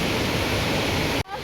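Lakkam waterfall in Munnar gives off a dense, steady roar of falling water, close and loud, that cuts off abruptly near the end.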